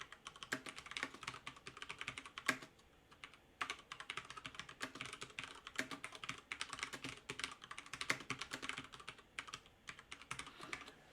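Quiet, steady typing on a computer keyboard, with fast irregular key clicks running throughout and no talking.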